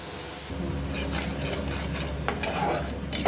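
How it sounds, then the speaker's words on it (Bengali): Spice paste with ground coriander and salt fries in a pan for a Bengali fish curry, a soft sizzle that starts about half a second in and carries on with scraping stirring strokes, quiet and close. "মশলাটা আরও কষবে।"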